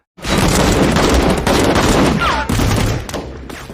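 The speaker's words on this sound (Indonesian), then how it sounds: "ketika mereka sudah berada di luar mereka langsung ditembaki kelompok itu dari dua arah" Dense gunfire erupts from two sides in a film bank-courier robbery ambush, a loud continuous fusillade of rapid shots and bursts filling the scene with a brief dip before resuming.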